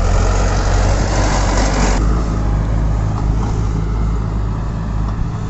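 A YTO EF 804 tractor with an 80 hp engine runs at a steady rumble on a farm, loud and close, with a deep low throb that holds constant throughout.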